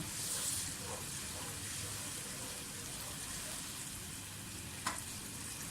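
Water being poured or bubbling for cooking soaked rice in a matar aloo pulao, a steady wet hiss and sizzle throughout with a brief clink near the end, no talking.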